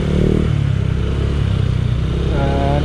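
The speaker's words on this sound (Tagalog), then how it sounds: "Yun o. Yun yung tunog niya, X6 pipe." Honda Click 125 scooter fitted with an X6 aftermarket exhaust pipe, running steadily close by with a deep, continuous engine rumble, ending with a slight rise in revs.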